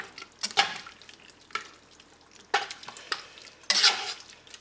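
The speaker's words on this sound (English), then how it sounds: "And then just mix all of that in." A seafood pasta mixture is stirred in a pan: a few sharp, close scraping swirls with soft sloshing in between and no talk.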